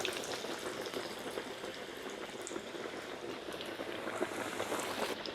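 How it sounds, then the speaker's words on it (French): Pork cutlet for tonkatsu frying in hot oil, a steady, dense sizzle and crackle at moderate level with no pauses and no voices. "maintenant, je vais mettre la viande dans l'huile."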